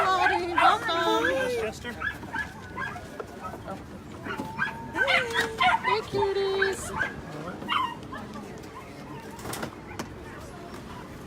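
Puppies and small dogs arriving at a shelter from Mobile, Alabama yip, bark and whimper in scattered bursts, some close and some farther off, while a woman greets them warmly.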